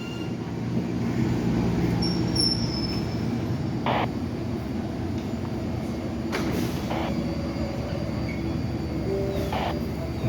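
A subway train on Boston's Orange Line, bound for Oak Grove, rumbles steadily nearby, with a continuous heavy roar of wheels on track and brief higher screeches rising above it.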